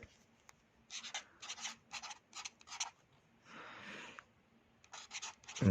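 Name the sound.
writing with a pen on paper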